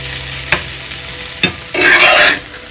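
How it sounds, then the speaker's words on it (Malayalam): Onions sauté in a hot pan, stirred with a couple of sharp spatula knocks, then a loud burst of sizzling as they are tossed, close and clear, with no one speaking. "നമുക്ക് എപ്പോഴും ഇങ്ങനെ ഇളക്കിക്കൊണ്ടിരിക്കാം. നന്നായിട്ടൊന്ന് വഴക്കി എടുക്കാം കേട്ടോ."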